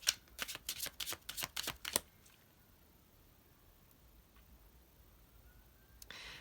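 Tarot cards are shuffled in a quick run of crisp riffling snaps close up, followed by a long quiet stretch with only faint card handling.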